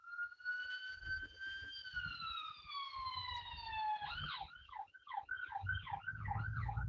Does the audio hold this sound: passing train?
no